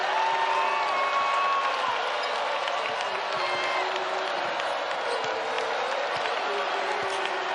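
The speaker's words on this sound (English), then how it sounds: "The crowd feeling it and loving it." An arena crowd at a North Carolina–West Virginia college basketball game roars with sustained cheering and applause, a dense wall of noise with whoops and the thud of a bouncing ball underneath.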